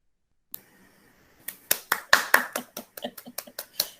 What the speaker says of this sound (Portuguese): Tem alguém que iniciou suas palmas aí